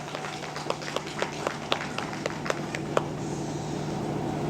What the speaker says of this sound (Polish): Gorące brawa, niech radni wspierają nas